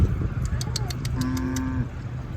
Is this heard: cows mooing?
yes